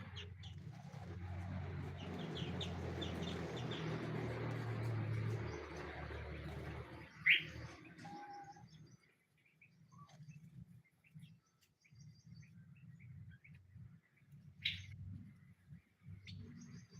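Birds chirp and call in short bursts against a low background hum, with soft cooing mixed in; a nesting green leafbird (cucak hijau) among them.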